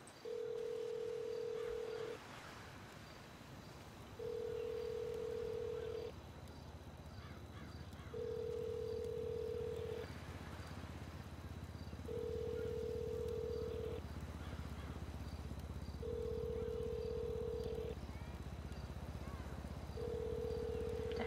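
A telephone rings unanswered in the video game GTA RP, six evenly spaced two-second ring tones separated by pauses, clear over faint background ambience.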